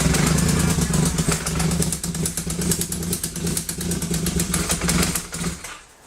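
A 1980 Yamaha XS850 motorcycle engine running with cold carburetors, a loud close rapid ticking idle that wavers unevenly before cutting out near the end, with voices speaking over it.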